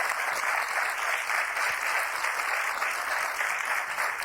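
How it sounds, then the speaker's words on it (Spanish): A studio audience on a 1993 Spanish television talk show claps steadily for about four seconds, a moderately quiet, even patter of many hands with no voices. "Yo creo que se merecen un aplauso por el esfuerzo"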